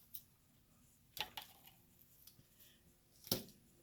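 Two or three crisp snips as scissors cut through a sweet potato slip stem, close and fairly quiet, with soft handling rustles between the cuts.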